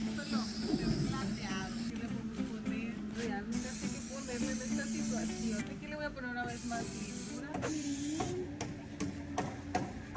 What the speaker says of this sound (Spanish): ya lo dañó completamente con un spray negro